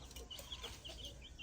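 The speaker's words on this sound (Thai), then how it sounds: "ไก่" Chicken clucking faintly in a rural vegetable garden, a few soft, quick clucks at a distance against quiet outdoor ambience.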